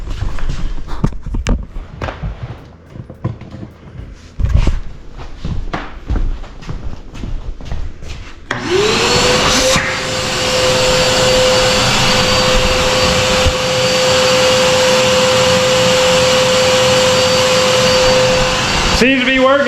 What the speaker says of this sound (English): basically make a big dust extractor, and with any luck pull all the dust up top